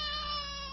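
A cat meows in the 2010 Cinematronics Alice in Wonderland video game, with a single sustained, tonal cry held close and loud over a steady low hum of game audio.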